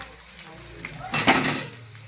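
Boiled seeds are dropped into a pan of fried spices and ginger, setting off a brief loud hissing sizzle that quickly fades to a quieter simmer.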